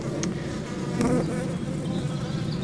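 Honey bees at a nuc hive make a steady, close buzzing drone with no talk, holding at an even level throughout.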